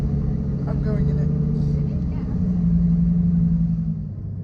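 A purple Lamborghini Huracán Performante sports car's engine rumbles low and steady from inside the cabin, swelling slightly midway, with voices talking over it throughout.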